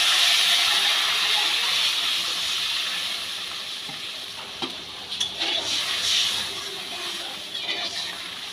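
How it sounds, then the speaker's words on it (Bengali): Water poured into a pan of sizzling fried spices for a Bengali tangra fish curry, a steady loud hiss and sizzle that gradually settles, with a few faint clinks and stirring sounds toward the end. "এবার আমি জল দেবো, সামান্য একটু জল আমি দিয়ে দিলাম।"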